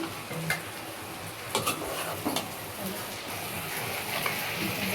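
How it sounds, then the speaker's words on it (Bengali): Vegetables tipped into a pan already holding garlic paste, turmeric, chili, salt and coriander powder, with a steady low sizzle and a few sharp clinks of a spoon against the pan. "এখন আমি সবজিটা দিয়ে দিব"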